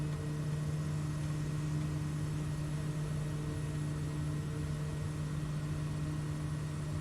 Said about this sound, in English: The prop and the exhaust sound really good.